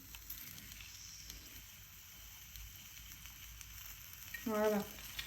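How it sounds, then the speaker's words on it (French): Oil dripped onto hot charcoal to make smoke for mechoui, a brief sharp sizzle flaring up near the end over a quiet, faintly hissing background. "pour que ça fume encore plus, il faut mettre un tout petit peu d'huile sur les charbons"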